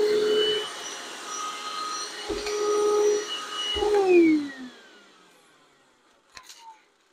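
A Hercules 20V cordless half-gallon vacuum whirs loudly and close, rattling and clattering as bolts are sucked up, then winds down into near quiet with a final small knock.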